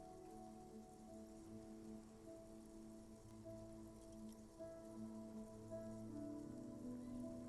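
Rain drips and patters off roofs on an urban coastline in the Disco Elysium video game, a faint continuous wash of drops over low steady ambient tones.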